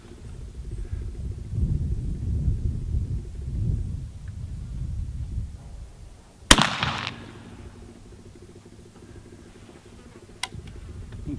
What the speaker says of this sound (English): I'm gonna shoot some more at that.